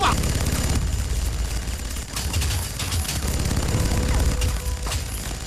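Dense bursts of gunfire from a film battle scene crackle over a heavy rumbling background, loud and continuous, with sharper shots standing out now and then.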